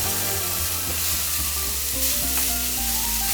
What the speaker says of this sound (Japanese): 肉は焼き付けるように炒め、焼き目をつけて香ばしさを出す。